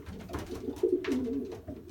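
Young Belgian racing pigeons coo softly nearby, a few low throaty calls rising and falling over quiet background rustle.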